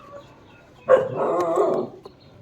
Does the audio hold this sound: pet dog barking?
yes